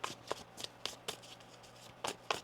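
Tarot cards being shuffled by hand, with quick papery riffles and soft flicks that come in short irregular bursts, close and fairly quiet, with no talking.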